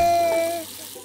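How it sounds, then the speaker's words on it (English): Water runs from a tap while a baby's bath is being filled, a steady close gushing with a faint tonal hum that eases off midway, alone with no talking. "Yeah, that's water."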